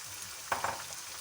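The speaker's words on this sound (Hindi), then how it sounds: "अब इसमें हम हाफ़ kg धुला हुआ चिकन डाल देंगे और इसको अच्छे तरीके से इसमें भून लेंगे" Half a kilo of washed chicken fries in a pan for methi chicken, a faint, even sizzle with a couple of soft stirring knocks near the middle, quiet and with no speech.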